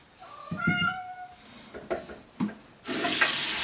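A bathroom sink faucet is turned on during a handwashing routine, with a broad hiss of running water starting near the end and continuing steadily, preceded by short tonal squeaks and soft knocks.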